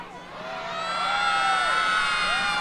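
A crowd gathered in Dokkum for the 2019 Sinterklaas arrival cheers and whoops, with children's shouts rising over a steady mass of voices that swells and holds loud for a few seconds.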